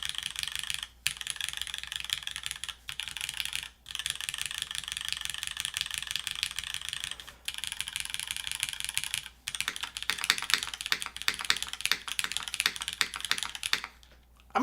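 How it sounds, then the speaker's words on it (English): Typing on a mechanical keyboard with Cherry MX2A switches, an aluminum plate and GMK keycaps makes rapid, close, continuous clacking with brief pauses between bursts. "We're using Cherry MX2As with, I believe, is the aluminum plate."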